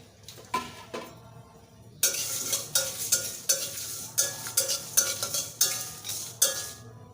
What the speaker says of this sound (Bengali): প্যানে মশলাগুলোকে বেজে নেব